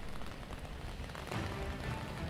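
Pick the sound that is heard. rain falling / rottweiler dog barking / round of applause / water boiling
rain falling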